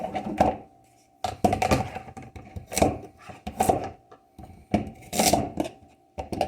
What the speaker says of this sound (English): I chop off the ends.